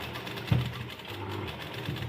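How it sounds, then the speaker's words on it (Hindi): A sewing machine stitches a Rajputi lehenga set with kundan work, running as a steady close mechanical whir with a brief louder knock partway through and a softer one near the end. "ये सेंटर से सिलाई स्टार्ट की है हमने।"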